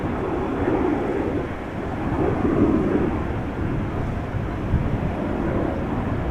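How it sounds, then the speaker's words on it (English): A business jet takes off from runway 22 at Amsterdam Schiphol Airport, a steady deep roar that swells and eases over several seconds, heard from a distance with wind rumble and no talking. "BizJet taking off from runway 22."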